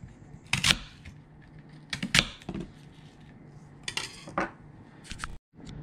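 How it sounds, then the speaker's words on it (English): Knife slicing an apple, several crisp cutting clicks and knocks on a board in irregular bursts, close and moderately loud with quiet gaps between. "we're gonna start out by slicing up this apple"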